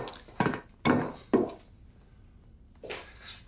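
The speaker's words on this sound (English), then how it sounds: "the first thing we have to do is to puncture our peppers" A kitchen knife pierces raw peppers, which will then be deep fried. Three short, sharp taps land close together on a board, followed after a pause by a few softer clicks and knocks nearby.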